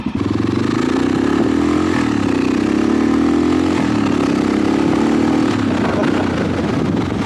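A motorcycle engine idles close by with a steady, throbbing rumble and slight rises in pitch, while someone talks over it.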